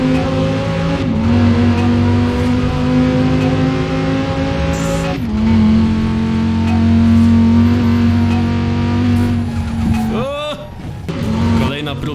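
A Cyberpunk 2077 car driven in the racing video game Forza Horizon 4 roars loudly and accelerates in long droning pushes, with abrupt pitch jumps and a brief tire squeal near the end. Someone talks over the engine.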